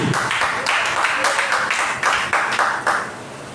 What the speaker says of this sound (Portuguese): Vamos receber a irmã com as palmas bem alegres para Jesus